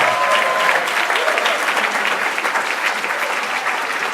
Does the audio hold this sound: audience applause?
yes